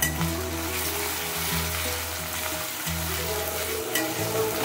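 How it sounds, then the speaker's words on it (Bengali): Sliced onions with bay leaves and dried red chillies frying in hot oil, after fish heads have been fried, for moong and masoor dal: a loud, steady close sizzle with a low hum underneath and occasional faint stirring. "পেঁয়াজটা ভাজতে থাকবো।"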